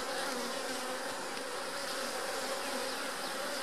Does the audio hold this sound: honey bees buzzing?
yes